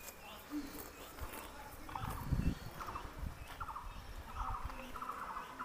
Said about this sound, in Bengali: গ্রাম্য পরিবেশ, শুধু পাখির ডাক